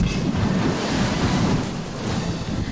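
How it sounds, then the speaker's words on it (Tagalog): Ocean waves rolling in on the Manila Bay shore after a monsoon surge, a steady close wash of surf with wind buffeting the microphone, no voices. "Mas kalmado na ngayong araw ang mga alon, pero paminsay nagngangalit pa rin"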